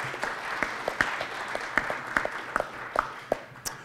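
Audience at an evening panel discussion on regenerative agriculture applauding, a moderate crowd clapping with distinct individual claps standing out in the rhythm, fading toward the end.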